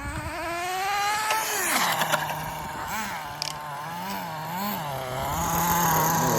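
An HPI RS4 nitro RC car engine runs close by with a loud, buzzing whine that rises and falls in pitch as the throttle is worked, continuous throughout.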